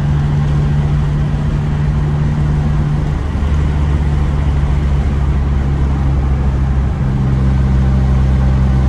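An old car engine labouring uphill in fifth gear, a loud steady low drone that strains and shifts slightly in pitch, continuous with no talk.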